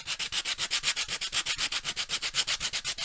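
Sandpaper rubs back and forth on wood in a steady, fast rhythm of loud, close strokes, evenly repeated with no pauses.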